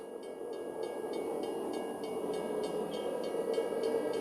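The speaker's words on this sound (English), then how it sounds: "That's when I hear the sound of a train honking from a distance." A train rumbles steadily at a distance, with a continuous low roar and faint rhythmic clicking of wheels on the rails, no voices.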